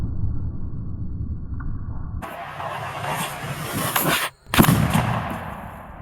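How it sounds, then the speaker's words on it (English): A .54 caliber Hawken muzzle-loader rifle fired at a cinder block outdoors, one sudden loud blast cutting through steady background rumble, followed by a brief drop and a lingering broad roar. "54 caliber muzzle loader at the center block in 3, 2, 1."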